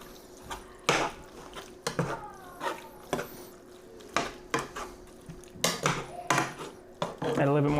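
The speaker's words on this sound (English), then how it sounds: "I'm gonna go ahead and mix all that up." Black beans and chili being stirred in a pot, with repeated clanks and scrapes of a spoon against the metal in uneven bursts, close up and fairly quiet, without talk.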